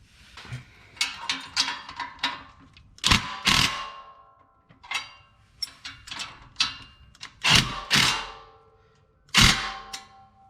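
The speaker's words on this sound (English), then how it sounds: "So all we gotta do now is tighten everything down." Metal tools clack and rattle in short bursts while bolts are tightened on a Stromung exhaust being installed on an Acura Legend, with several sharp clanks and quick ratcheting runs between pauses, close and without speech.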